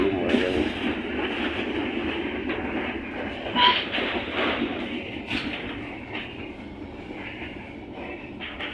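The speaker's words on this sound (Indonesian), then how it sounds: "Kereta api apa ini?" Train passing on the Wonokromo-Tanggulangin rail line in Indonesia, a close rumble with clattering wheels and brief high squeals, fading somewhat toward the end.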